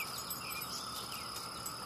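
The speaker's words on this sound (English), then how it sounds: "And of course the cicadas make it all the more interesting." Steady high-pitched insect buzzing drones on without a break, with faint chirps layered over a quiet outdoor background.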